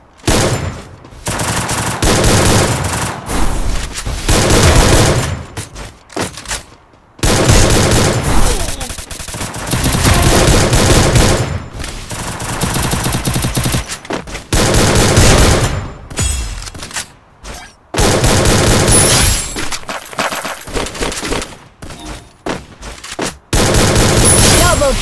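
Loud, close bursts of automatic gunfire from the mobile battle game Free Fire, coming in long dense volleys separated by brief silent gaps, with occasional speech mixed in.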